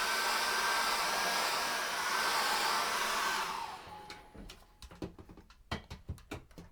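A hair dryer blows loud and steady on freshly applied acrylic paint for a sunset painting, then cuts off, leaving quiet brush taps and handling knocks.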